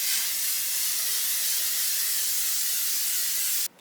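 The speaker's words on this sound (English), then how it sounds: "So I'm just going to spray this all over my face." A makeup setting spray misted onto a face gives one continuous close, steady hiss for several seconds before cutting off abruptly.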